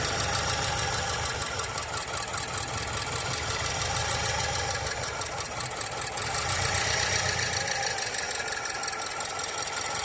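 A 2013 Land Rover Evoque engine idles with cylinder 2 disabled, running rough and steady with a rapid uneven ticking pulse, close and loud throughout with no talking.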